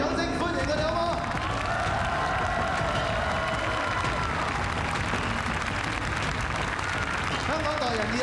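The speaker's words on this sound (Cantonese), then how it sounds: "最熱烈嘅掌聲歡迎佢哋" Dense, continuous applause and cheering from a large audience welcoming snooker players at a Euro-Asia exhibition team match in Hong Kong, steady and loud throughout with crowd noise and some voices mixed in.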